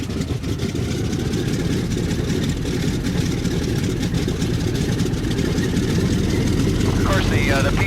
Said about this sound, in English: She starts rumbling, feet in the mixture. And let off on the prime, it's running fine.